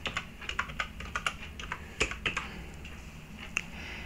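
A password is typed on a computer keyboard as a run of quick, close key clicks in an uneven rhythm, with a few harder taps near the end.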